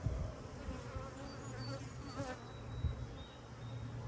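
Honey bees buzz steadily around an open beehive with added brood, a close, continuous drone with faint shifts in pitch as individual bees pass near.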